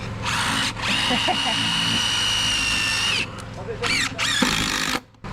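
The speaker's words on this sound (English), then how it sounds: "I pre-drill it when it's super dry wood" A power drill drives a screw into wood, whirring steadily for a few seconds, stops briefly, then spins up again in short bursts, close by with some muffled background sound.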